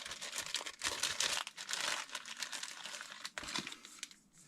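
Plastic bag of replacement hydraulic cylinder parts for a Valmet 903 forestry machine being rummaged through, giving close, continuous crinkling and rustling with brief pauses and no talk.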